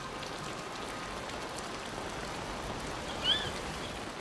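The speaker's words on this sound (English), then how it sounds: "This rhino baby has never seen rain before." Steady rain hisses down in the wild where a baby rhino stands, a dense even patter with one brief high bird chirp near the end.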